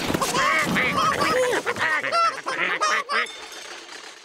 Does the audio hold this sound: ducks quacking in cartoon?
yes